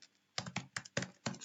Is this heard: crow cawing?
no